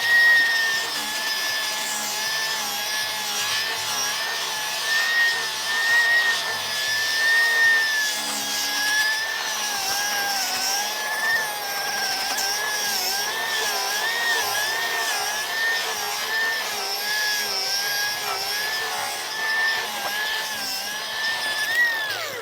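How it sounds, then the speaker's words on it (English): A stripping disc on a power tool grinds silver paint overspray off truck tires, a steady abrasive whirring and rubbing that runs without a break throughout, close and fairly loud, with shifting pitch as the disc works. "I wonder if this stripping disc will clean that up."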